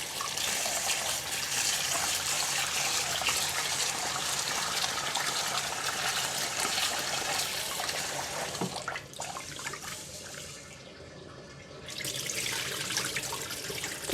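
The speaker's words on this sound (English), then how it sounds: "And put in some more water." Water runs steadily from a tap into a basin of rice being rinsed, splashing and gushing, with a brief lull before the flow picks up again.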